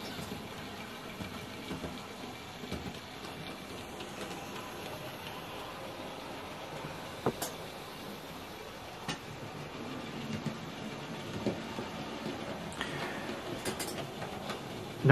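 A Hornby Peckett W4 model locomotive runs along its track with a faint, continuous low rumble and a few scattered clicks.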